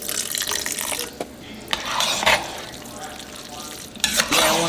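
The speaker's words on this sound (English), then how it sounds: "This is where we're going to add a little bit more beef broth because I can feel it getting thick." Beef broth poured into a pan of Hamburger Helper, giving a splashing, sizzling stir with scraping bursts, close and moderately loud, with no speech.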